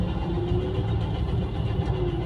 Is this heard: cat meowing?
no